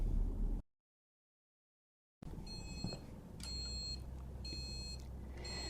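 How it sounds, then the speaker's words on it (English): Electronic buzzer of a CYANLab dry incubator timer sounding on reaching zero, a series of short repeated high-pitched beeps in groups over low background noise, following a brief silent gap. "Depending on your buzzer choice, it gives an audio signal when reaching 0."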